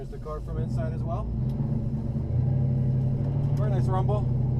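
1970 Chevelle 454 SS V8 heard from inside the cabin while driving, a steady low rumble that swells slightly partway through, while a person talks over it.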